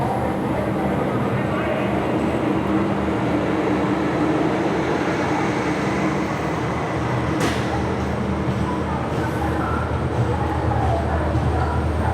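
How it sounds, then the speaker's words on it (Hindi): Dhanbad express train arriving at an adjacent railway platform, a steady loud rumble of rolling wagons and station noise throughout, with a brief sharp clank midway and voices in the background. "एडजेसेंट प्लेटफॉर्म पे आ चुकी है धनबाद LP एक्सप्रेस"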